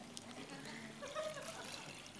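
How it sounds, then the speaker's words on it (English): Very dirty water trickles and pours into a water filter, a soft, faint, steady liquid stream lasting a couple of seconds. "So I'm going to take this really filthy water and put it in here."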